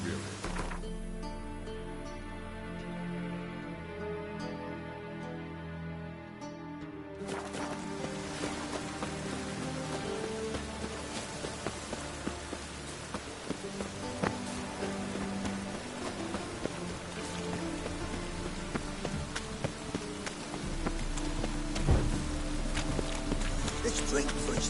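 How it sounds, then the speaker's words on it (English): Steady rain falls through a scene in The Witcher 3, a constant broadband hiss layered with game music and ambient sounds and continuing unbroken to the end. "Rain makes this scene even more dreary."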